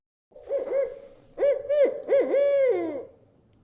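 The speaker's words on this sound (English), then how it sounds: "A barn owl carrying a scroll just joined us in the tavern." An owl gives a series of clear, close hooting calls in three bursts with short gaps, the last one longer and wavering, against near silence.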